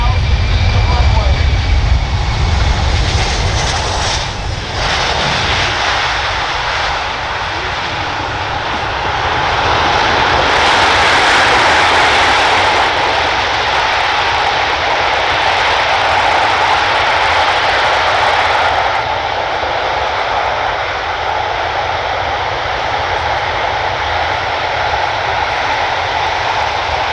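A C-17 transport aircraft makes a very short landing at an airshow, its jet engines roaring loud and continuous with a rising whine, while an announcer speaks over a public address system.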